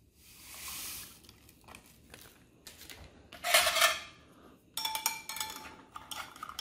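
Stirring a berry-flavored powdered drink in a cup from a 1993 British 24-hour ration lunch pack, with close, scraping clinks of a utensil against the cup in short bursts, alone with no talk.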